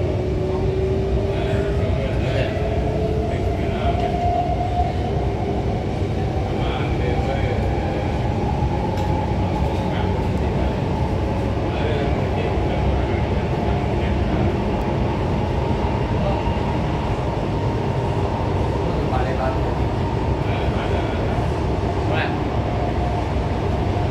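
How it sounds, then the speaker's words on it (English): An SMRT Alstom Movia R151 metro train runs eastbound toward Pasir Ris, giving a steady, continuous rumble with a rising motor whine throughout, heard from on board with occasional talk over it. "This is a relatively new R151."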